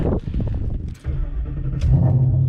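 A Ford Mustang engine with an aftermarket exhaust rumbles deeply nearby, swelling into a louder, throaty growl toward the end.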